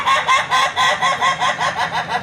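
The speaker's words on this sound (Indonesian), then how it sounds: "Itu dia namanya ayam ketawa" A laughing chicken (ayam ketawa) crows in a rapid, rhythmic series of repeated cackling bursts, about a dozen pulses running steadily and loudly close by, with no talk over it.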